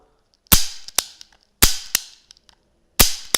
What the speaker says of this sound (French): Donc, vous voyez, le barillet, le barillet tourne plutôt bien.